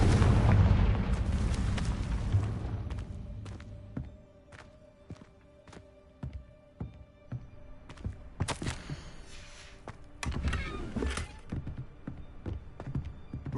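A Confringo fire spell in Hogwarts Legacy lands with a loud, rumbling blast that decays over several seconds, followed by scattered sharp impacts, footsteps and another burst of crackling booms.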